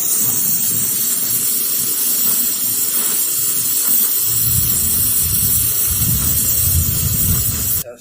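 A steady, close hiss of nitrogen gas released to test two small 3/8 brazed joints on a refrigeration filter drier, continuous for several seconds before cutting off.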